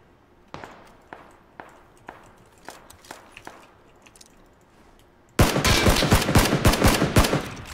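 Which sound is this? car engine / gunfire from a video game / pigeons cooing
gunfire from a video game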